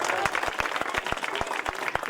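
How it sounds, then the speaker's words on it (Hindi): Crowd claps loudly at a cricket tournament prize-giving for the best bowler award, a dense burst of many hands with sharp individual slaps, close and sustained, with voices mixed in. "जोर से ताली"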